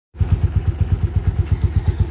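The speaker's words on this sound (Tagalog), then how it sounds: "ito yung andar ng motor nila" A motorcycle engine, one of two 155 cc bikes brought in for an overhaul in a San Carlos City, Pangasinan shop, starts and settles into a close, loud, even idle with steady rhythmic thumping pulses.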